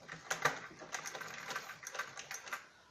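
A sewing machine stitches a seam on a salwar belt in a quick, faint, rapid clatter that runs for a few seconds close to the listener.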